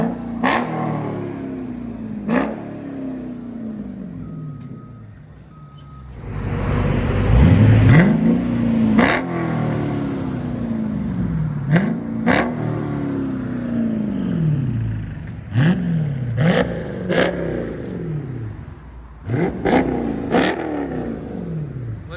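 Revving from the 6.4L HEMI V8 of a 2023 Dodge Charger Super Bee with a mid-muffler delete and 5-inch angle-cut tips: loud, sharp exhaust blips rise and drop back, with one long pull around the middle and a quick run of repeated revs near the end.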